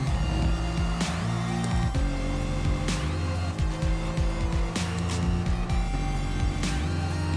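Race car lapping the Suzuka circuit in the GT Sport video game, its engine loud and continuous with repeated rising and falling revs through gear shifts and brief tire squeals, no talk.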